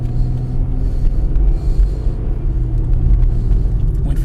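A 2005 GM car with a 4T65-E automatic transmission accelerates from a stop and shifts from first to second gear, giving a steady, loud engine and road rumble heard from inside the cabin without pause.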